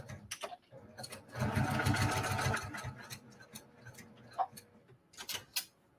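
An embroidery sewing machine stitches a quilt binding on a mini quilt. A close, rapid mechanical whir runs for about a second between scattered ticks and clicks, with no voices.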